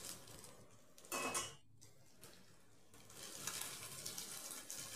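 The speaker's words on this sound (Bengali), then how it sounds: "এইভাবে মাছগুলোকে খুব ভালোভাবে সাবধানে ভেজে নেবেন" Fish frying in a pan, a faint sizzle with a spatula clattering against the pan now and then and soft scraping, close, with no talk.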